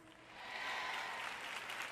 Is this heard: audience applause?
yes